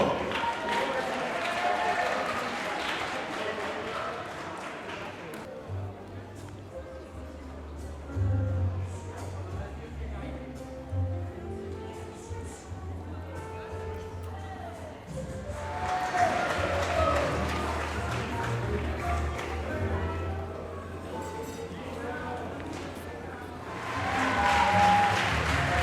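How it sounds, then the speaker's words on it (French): Audience applause at a handiboxing presentation at a French sports club, a burst of clapping at the start, then speech and background murmur, with further clapping swells near the middle and end. "On les applaudit bien fort."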